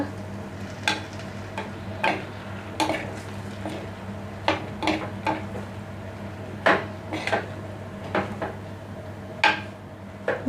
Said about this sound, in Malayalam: നന്നായിട്ട് ഇളക്കി മിക്സ് ചെയ്ത് കൊടുക്കാം